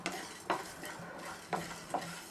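Mustard seeds fry and crackle in a pan along with coriander, cinnamon and cardamom for chicken pickle, under a steady sizzle broken by a few sharp stirring scrapes and clicks.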